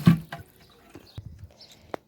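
Water splashing onto cucumber plants in a vegetable garden, a few soft, scattered splashes and drips at close range with quiet gaps between them.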